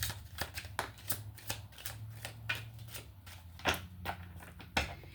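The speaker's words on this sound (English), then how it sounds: "when I just shuffled that, we have the Five of Cups showing up at the bottom of the deck" Tarot cards being shuffled by hand, close and fairly quiet, a run of quick papery riffles and taps in an uneven rhythm with no talk.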